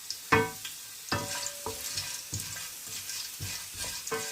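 Chana dal and cashews fry in hot oil in a pan, a close, steady sizzle broken by repeated clinks and scrapes of a spoon stirring at an irregular pace, with no voices present.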